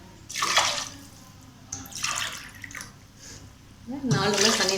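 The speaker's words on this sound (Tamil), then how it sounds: "4 கிளாஸ் தண்ணி நான் ஊற்றிருக்கேன்." Water pours into a pot for basmati rice egg biryani in a home kitchen, splashing in three separate bursts with quiet gaps between them, close and moderately loud.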